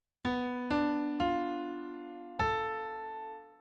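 A half-diminished chord played as four notes entering one by one, each plucked and left ringing to build the chord, then sustaining and fading, quiet and close with no talking.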